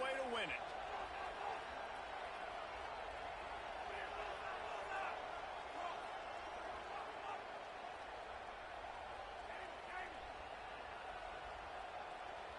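A college football stadium crowd roars in a sustained wall of noise during the final snap of a close game, distant and steady with scattered shouts rising through it.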